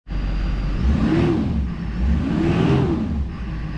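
A Duramax truck engine, on a truck that needs front-end work, revs twice while backing off a trailer, rising and falling in two close, loud swells over a low steady idle, with no talking.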